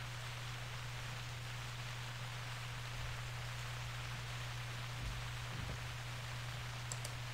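Steady, dense rain hiss in the video game theHunter, with a low constant hum underneath, continuous and even throughout with a couple of faint bumps.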